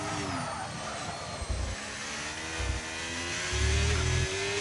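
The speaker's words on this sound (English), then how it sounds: "Really revved it out there in second gear." Race car engine in a Monza racing video game revving hard in second gear, a steady high-pitched drone that swells louder toward the end, with a few low thumps underneath.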